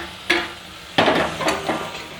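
Tomato, ginger and garlic being stirred and fried in a pan, with a few sharp scraping strokes over a soft steady sizzle, close and fairly loud.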